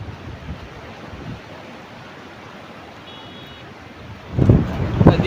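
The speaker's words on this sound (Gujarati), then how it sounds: "આપણે હાલ પુલ ઉપર છીએ મસ્ત ઠંડી ઠંડી વાયરી આવે છે વાતાવરણ એકદમ વાદળશાહી કરી છે નદીમાં પાણી ચાલુ થઈ ગયું છે" Floodwater of the Sabarmati river rushing under a bridge during monsoon flooding, a steady broadband roar mixed with wind buffeting the microphone, rising to louder gusty surges near the end.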